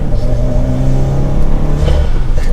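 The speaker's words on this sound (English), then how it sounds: "It revs very quick." A 2021 Subaru WRX engine revs quickly under half throttle while accelerating, heard from inside the car as a loud, steady mid-pitched drone that climbs slightly, with no talking.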